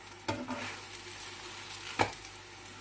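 Khamir flatbread made with wholemeal flour cooking in a pan on a low stove flame, with a soft steady sizzle broken by two sharp close scraping knocks, without talking.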